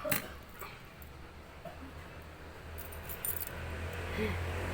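A set of keys jangles briefly and close up at the start, followed by quiet rustles, faint dog sounds and low background hum.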